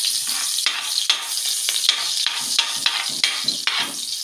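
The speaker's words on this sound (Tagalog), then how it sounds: "magpipisa na tayo ng bawang at sibuyas" Crushed garlic and onion sizzle in a pan for Filipino pancit bihon, a bright continuous hiss broken by regular stirring scrapes, close and steady.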